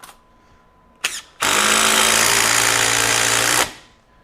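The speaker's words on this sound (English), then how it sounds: "Drive some 3-inch deck screws." A DeWalt DCF845 brushless impact driver set to speed 2 drives a 3-inch deck screw into wood: a brief double tap, then a loud, continuous hammering rattle lasting about two seconds before it stops.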